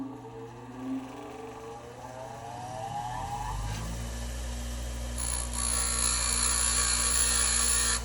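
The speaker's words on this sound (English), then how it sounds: "I'm going to start off with the grinder" An electric grinder spins up with a rising whine, then settles into a steady loud drone as it flattens a metal wiper blade, the harsh grinding growing stronger toward the end.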